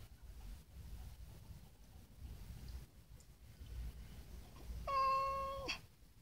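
A cranky cat lets out a single clear meow near the end, heard on a quiet Sunday morning over faint wind and low background rumble.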